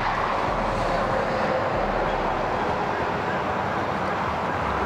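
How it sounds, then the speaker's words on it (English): Steady traffic noise from the side of a highway: a loud, continuous broadband roar of passing vehicles with no clear breaks. "Sorry, I'm on the side of the highway here, so excuse the road noise."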